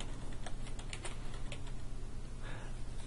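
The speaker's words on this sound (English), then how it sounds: "I'll type that search term in and then hit search or enter" Search term typed on a computer keyboard: quiet, quick irregular key clicks in short runs, close by, with a slightly heavier keystroke near the end.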